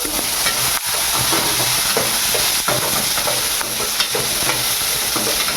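Ginger, garlic and green chilies fry in a pan for a drumstick-leaf chutney, giving a steady close sizzle with intermittent stirring scrapes throughout.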